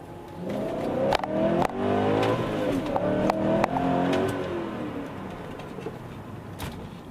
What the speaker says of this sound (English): Another full throttle shift for you.